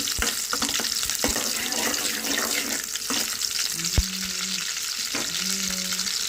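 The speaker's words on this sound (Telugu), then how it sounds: "ఆయిల్ అయితే బాగా హీట్ ఎక్కింది కదా ఆనియన్స్ తీసుకున్నా ఆనియన్స్ అయితే బాగా ఫ్రై చేసుకోవాలి" Onions sizzle in well-heated oil, a steady close crackle punctuated by sharp scrapes and knocks of a spatula stirring the pan. No voices are heard.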